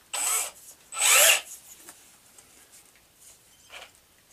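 A power drill drives thick decking screws in two strong whirring bursts close by, followed by quieter scraping and handling noises and a faint brief spin near the end.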